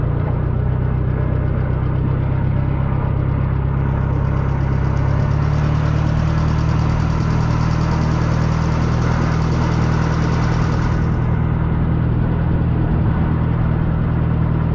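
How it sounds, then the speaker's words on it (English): A farm tractor engine runs steadily close by, a loud continuous low rumble with a constant mid-range drone and no voices over it. "Another tractor that needs a bath."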